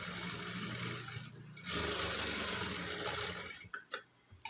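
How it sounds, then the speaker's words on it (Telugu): A sewing machine stitches the back neck of a dress cut from a saree, running in a steady fast whir, pausing briefly, then running on before it breaks into short stop-start bursts at the end. "బ్యాక్ పార్ట్లో నెక్ కూడా నేను డైరెక్టే స్టిచ్ చేస్తున్నానండి"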